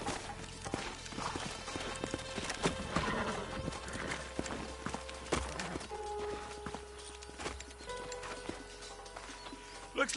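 Horses in the Western video game Red Dead Redemption walk with steady clip-clop hooves and let out whinnies, with game music and ambient sound underneath.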